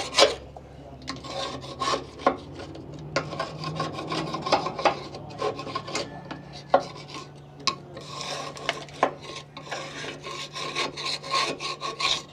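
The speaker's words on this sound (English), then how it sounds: "we're going to just get her scraped down" A scraper grinds grime off a car part on a show-prep build, with close, continuous gritty rasping strokes in an uneven rhythm, punctuated by sharp metallic clicks and scrapes.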